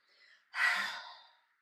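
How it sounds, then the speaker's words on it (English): A single audible breath pushed out through the mouth during a seated chair-yoga lion's pose, a soft airy exhale that swells quickly and fades over about a second, preceded by a faint shorter breath. "as I roll the shoulders out and round the back, I'm going to breathe out my mouth"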